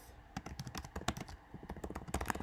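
Someone types on a computer keyboard at close range, producing a quick, uneven run of crisp key clicks and clacks with brief pauses and no voices.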